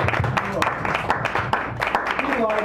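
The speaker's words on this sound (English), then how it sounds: "Give him another round of applause" Audience applause at a poetry reading in a San Francisco cafe, dense clapping from a small crowd over several seconds, mixed with a speaking voice and cheers.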